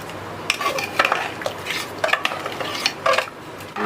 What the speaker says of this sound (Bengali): ভালোভাবে মশলাটা মিশিয়ে নিলাম।